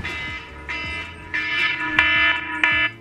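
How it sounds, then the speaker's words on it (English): A phone alarm rings close by, repeating a bright electronic tone in short bursts that get a little louder, with no one speaking. "that's my alarm for work today"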